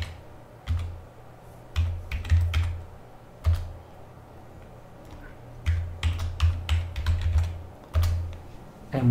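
Keys clatter on a computer keyboard as a short command is typed into a Linux terminal on Drauger OS, arriving in quick bursts of close, crisp taps with brief pauses between them and no voices.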